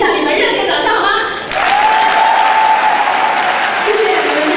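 Audience at a school concert in Luodong clapping loudly, a dense sustained burst of applause with cheering that swells after a short lull and carries on under a sustained tone.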